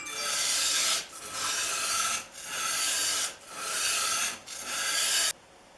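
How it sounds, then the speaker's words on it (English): A plane iron is lapped flat on sandpaper: five steady, loud, gritty rasping strokes slide left to right, each separated by a short pause, with no talking. "I've got about 3/4 of an inch on the sandpaper, holding it perfectly flat, and start to slide it left to right."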